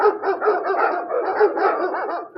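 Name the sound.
dogs barking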